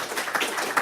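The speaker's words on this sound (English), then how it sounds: "Can I just get a round of applause for my excellent panellists?" Audience clapping for panellists at a pharmaceutical industry conference, a soft, fairly distant patter of scattered hands, brief and steady, with no voices over it.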